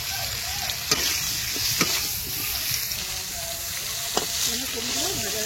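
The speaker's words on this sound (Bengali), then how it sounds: "ফুলকপিগুলো ভেজে নেব" Cauliflower florets fry with salt and turmeric in a pan for shukto, giving a continuous crackling sizzle with occasional sharp spatula taps and stirring scrapes close by, and no voices.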